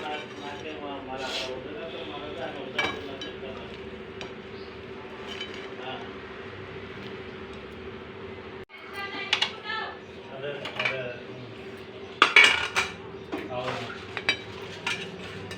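Sabudana khichdi with peanut powder being stirred in a pan: a spoon scrapes and clinks against the metal over a low sizzle, with a louder burst of clattering stirs near the end and no clear speech.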